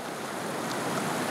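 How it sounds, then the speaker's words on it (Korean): Water of the Hwagyecheon stream flows in a steady, even rush with a broad hiss and no breaks, moderately close, with no voices over it. "오로지 물 흐르는 소리만 들려오니 이보다 더 좋은 명상이 또 있을까요?"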